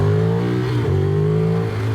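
A tuned Ducati Streetfighter 1098 S motorcycle's engine revs loudly and close, a deep steady drone with brief dips and pickups in pitch, with no talk over it.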